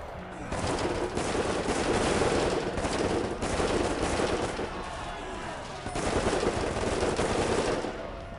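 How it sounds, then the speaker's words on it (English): In the Prison Architect video game, guards gun down prisoners with long bursts of rapid automatic fire. The shooting comes in loud, sustained volleys separated by brief lulls. "I think they've got 100 prisoners left to shoot."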